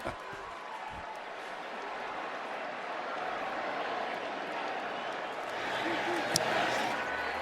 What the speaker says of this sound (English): Now the crowd's having fun.